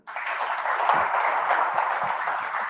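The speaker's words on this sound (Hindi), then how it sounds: "तालियां तो हो जाए।" Audience applause during an interview event with cricketer Mohammed Shami: a dense, even wash of clapping from a crowd that starts abruptly and carries on for a few seconds.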